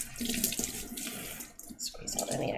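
Water runs from a kitchen tap onto a tea towel to dampen it, a continuous close splashing gush that briefly dips and changes tone as the cloth moves under the stream.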